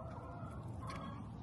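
Backyard chickens cluck softly and steadily in a low, continuous murmur of fowl sounds, quiet and unbroken, with no voices over them.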